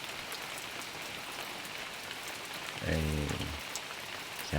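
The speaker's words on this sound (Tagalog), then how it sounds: "Tuluyan na yung ulan." Steady heavy rain hisses throughout, heard from inside a hut, with a brief low voice-like exclamation near the end over the downpour.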